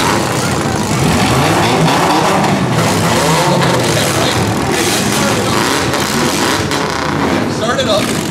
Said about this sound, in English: I want you to rev your new motor